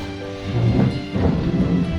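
Steady rain pours down with a dense wash of drops, and low rolling thunder rumbles continuously beneath it, loud and enveloping.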